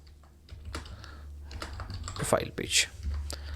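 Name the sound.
typing on a computer keyboard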